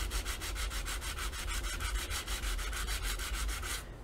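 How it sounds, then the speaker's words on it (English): A nail file rubs back and forth over the raised burrs on the back of pierced paper, giving steady, rhythmic scraping strokes, close and fairly quiet, with no voices. "a nail file comes in real handy"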